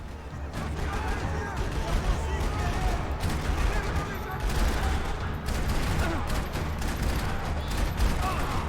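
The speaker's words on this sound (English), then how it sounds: "Parking lot rattling with gunfire." Rapid bursts of video game gunfire crackle continuously in a parking lot, dense and overlapping, with a steady rumble underneath and no clear speech.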